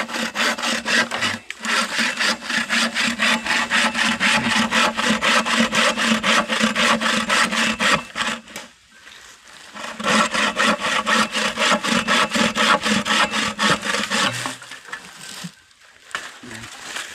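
Steady back-and-forth rasping of a hand saw cutting through wood, loud and close, with two short pauses midway and a quieter stretch near the end.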